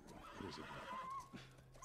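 A horse whinnies in The Last of Us Part II, one short, fairly close neigh with a faint hoof clop beneath it.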